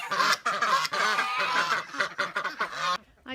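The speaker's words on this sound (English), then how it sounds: "These are this year's group of ducks. I feel pretty sure they're khaki Campbells." A group of khaki Campbell ducks quacks loudly and close by, overlapping harsh calls in quick, busy bursts that stop abruptly near the end.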